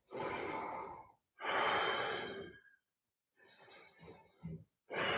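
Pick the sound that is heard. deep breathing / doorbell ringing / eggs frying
deep breathing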